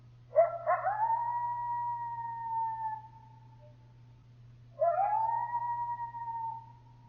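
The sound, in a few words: coyotes howling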